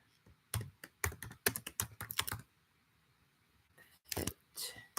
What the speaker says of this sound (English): I can type the lyrics into the YouTube channel.